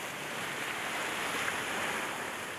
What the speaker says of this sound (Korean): 여기가 파도가 이렇게 치네.